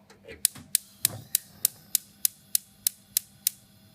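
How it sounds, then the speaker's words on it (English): Gas hob igniter clicking in a steady rapid series of about a dozen sharp, close ticks at even intervals, preceded by a soft knob turn, with no talking. "The first thing we're gonna do is obviously turn on the hob."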